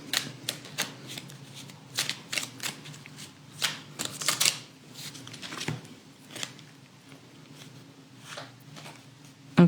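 Tarot cards are shuffled and drawn by hand, giving a run of crisp, close riffling snaps and slaps in uneven bursts over a faint steady hum.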